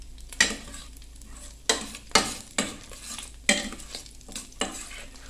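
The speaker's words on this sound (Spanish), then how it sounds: "Miren cómo se ve ya friendo." A tortilla sizzles in olive oil in a pan while a utensil scrapes and stirs in irregular strokes, each scrape sharp and close.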